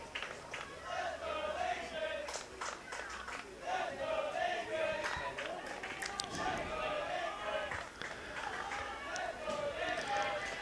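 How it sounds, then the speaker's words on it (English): Spectators at a junior baseball game at the Junior League Nationals chant a rhythmic team cheer in the background, a steady crowd sound running throughout beneath the ballpark ambience. "So the cheer you can hear in the background is Let's Go Lincoln."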